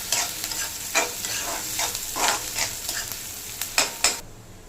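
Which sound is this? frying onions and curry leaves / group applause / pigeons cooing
frying onions and curry leaves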